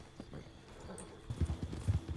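Hooves of a small horse clip-clop in the RedM roleplay video game, soft and steady at first, then louder and quicker as the gait picks up, with no speech.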